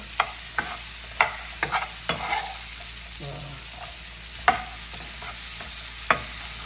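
Okra frying in oil in a pan, stirred with a ladle: a run of sharp scraping clinks at irregular intervals over a soft, steady sizzle, no voices.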